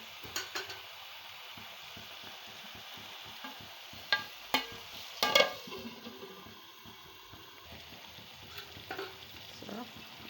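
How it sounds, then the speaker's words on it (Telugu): Eggs fry in oil in a pan for a pulusu, giving a soft, steady sizzle broken by sharp clicks and scrapes from stirring, a few louder knocks near the middle. "ఒక 5 మినిట్స్ ఫ్రై అవనిద్దాం"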